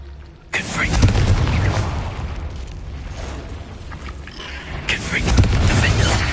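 Confringo fire spell blasts in Hogwarts Legacy, a loud booming explosion bursting in at half a second, rumbling on through the clip and swelling again with a second blast near the end.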